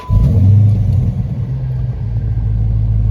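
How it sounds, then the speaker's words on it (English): A Dodge Challenger starts with a sudden loud burst of engine rumble that settles into a steady, deep idle close by. "Let's go ahead and start the car actually."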